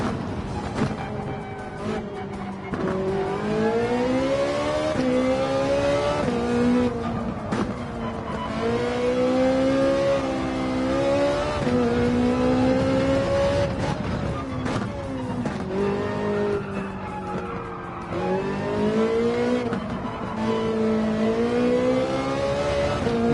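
A Nissan Silvia S15 engine in Gran Turismo 7 revs and winds through repeated rising and falling pulls, loud and close, with gear shifts and occasional tire squeal breaking the steady drone.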